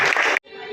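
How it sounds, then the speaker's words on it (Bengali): An audience claps at an award ceremony, giving a brief dense burst of applause that cuts off abruptly, and a softer, thinner patch of sound follows. "জোরে হাততালি হোক"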